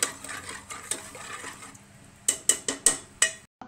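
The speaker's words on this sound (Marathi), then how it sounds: "डाळ चांगली मिक्स करून घेणार आहोत" A spoon scrapes and clinks against a pan while stirring dal with chili powder, soft stirring at first, then a burst of five or six sharp metallic knocks near the end; no talk.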